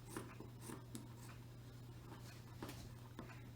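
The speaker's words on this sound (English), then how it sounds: "I'm just going to again take my scissors and I'm going to cut along that edge to remove that little bit" Scissors snipping along a fabric hemline, a series of soft, irregular crisp cuts close by over a steady low hum.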